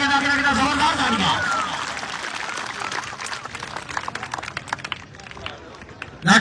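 Spectators at a kabaddi match in Pakistan applaud and cheer, a broad wash of clapping that thins into scattered claps, mixed with loud crowd noise and a commentator's voice.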